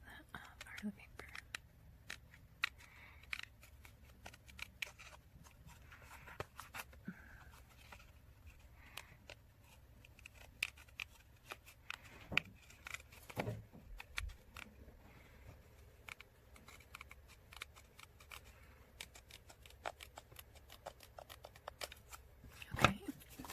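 Scissors trim paper for a handmade envelope junk journal, with quiet, scattered snips and rustling paper up close against a near-silent room, punctuated by occasional sharper clicks and handling noises.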